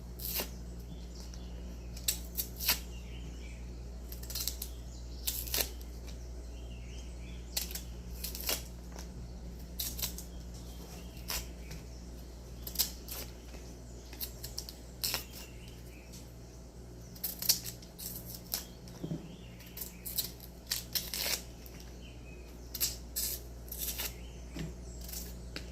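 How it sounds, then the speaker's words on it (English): Salted cassava is peeled by hand, making quiet, close, repeated scraping and rasping strokes in an irregular rhythm over a low steady hum. "The more salt I put in the cassava is the easier it will be to peel."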